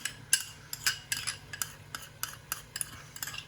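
Tamarind paste scraped into a pot with a utensil and stirred, giving a quick run of light, uneven scraping clicks and taps against the pot, close and fairly quiet.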